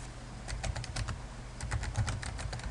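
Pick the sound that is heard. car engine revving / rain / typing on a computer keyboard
typing on a computer keyboard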